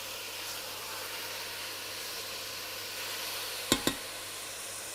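Red fruits and sugar sizzle steadily in a pan over the heat, a continuous close frying hiss with faint stirring and two brief sharp clicks near the end.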